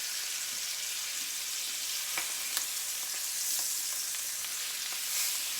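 Stuffed chicken breast, filled with spinach and cheese, sizzles steadily in hot oil in a pan after being flipped, a bright continuous hiss with a few faint pops and clicks, close and alone without talk.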